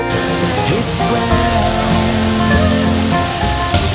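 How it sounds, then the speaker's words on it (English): Heavy rain pours onto a moving van during a thunderstorm, a steady dense hiss that blankets everything, with a low hum of the van running underneath. "Some gnarly rain coming down."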